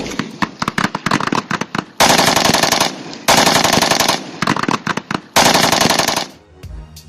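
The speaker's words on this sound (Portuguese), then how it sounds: "Tiro de metralhadora." Loud bursts of machine gun fire come in rapid rattling volleys, some short and staccato and some sustained, separated by brief gaps, with a fading echo at the end.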